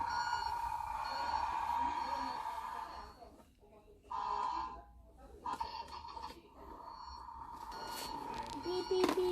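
A steady electronic beeping from a toy tractor ridden by a one-year-old boy outdoors, mostly continuous with short breaks, beside a parent's nearby voice.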